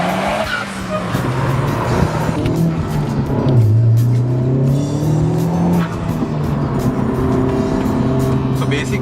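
A 2018 Honda Civic Type R with a turbocharged engine accelerates hard, its engine note climbing and shifting while tires squeal on the road, loud and close throughout.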